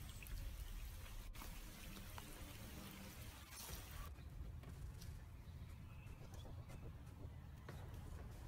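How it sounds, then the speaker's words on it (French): Rain falls steadily in an animated fantasy series scene, a faint, continuous trickling and pattering wash with a few soft drips, low in level and unbroken throughout. "Ça recommence à pleuvoir."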